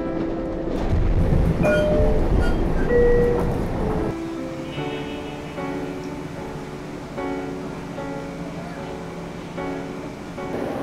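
A train at a subway or rail platform gives a heavy rumble that settles into a steady, sustained tonal whine, fairly loud throughout, with faint voices in the background.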